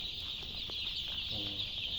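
Baby chicks at a poultry market in Bogura, Bangladesh, peep in short high chirps that run steadily through the clip alongside some low clucking, heard at moderate distance over a constant background hum.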